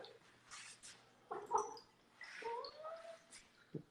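A cat plays with a Q-tip indoors, giving a few faint, scattered soft vocal chirps and rustling scuffs at close range, with no talking.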